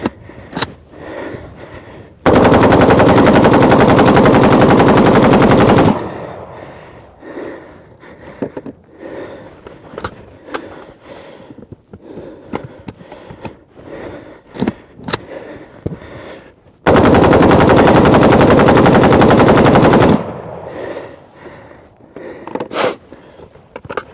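Sustained automatic fire from an AK-47 rifle during an endurance test, two long unbroken bursts of several seconds each separated by quieter handling and clatter, loud and close.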